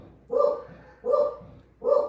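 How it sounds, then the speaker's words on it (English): A dog barks indoors from another room, three separate bursts of barking spaced under a second apart, moderately loud and slightly muffled. "I hear barking from outside, so my dogs will probably start in now."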